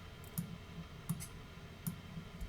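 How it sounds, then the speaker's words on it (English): Soft mouse clicks on a computer mouse, pressed in a loose sequence of about four taps while the command key is held down, quiet and close with faint background hum. "then I hold down the command key again, click, and hold down the command key, click"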